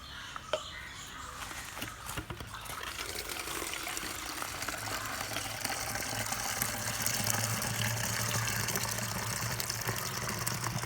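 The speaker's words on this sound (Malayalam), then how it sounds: "വെള്ളം വെള്ളം ഒഴിക്കണേ" Water pours and splashes into a container with a steady rushing fill, while a crow caws faintly in the distance.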